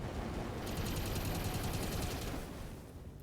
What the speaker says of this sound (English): we got flamers and machine guns